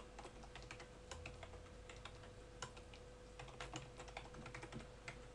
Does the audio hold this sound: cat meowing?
no